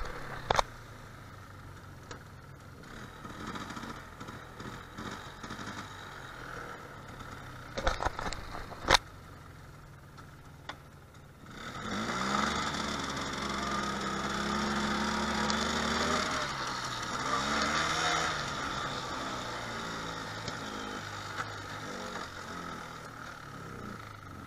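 Motorcycle engine revving hard through a full wheelie, a sustained loud roar with wavering pitch taking over midway after quieter idling and a few sharp clicks.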